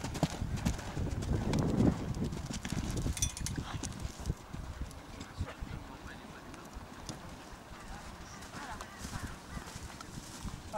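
A horse galloping in a riding lesson over an obstacle, hooves clip-clopping in a steady rhythm that is strongest at first and then settles under background noise.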